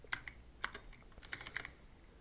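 Short bursts of typing on a computer keyboard, close and fairly quiet, with quick clicking keystrokes in two small clusters.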